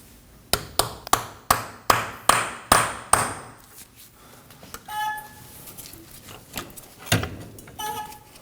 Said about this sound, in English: Now I'm going to use a punch and a hammer, and we'll just tap on the end of the axle to get it to set into the diff.